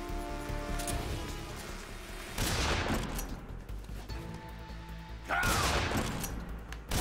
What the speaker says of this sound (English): Let's actually use the shotgun.